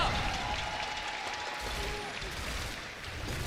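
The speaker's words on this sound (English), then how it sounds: "Let's get one more cheer for them." Esports event crowd cheering for team Miracle, a steady wash of applause and cheers, distant and sustained, with a faint voice underneath.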